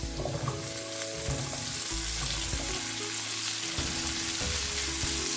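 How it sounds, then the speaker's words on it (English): Vegetables with ginger stir-fried over high heat for chilli chicken, a loud continuous sizzle with repeated rhythmic tossing and scraping in the pan, close and unbroken throughout. "Fry it for only like 1 minute, not more than that."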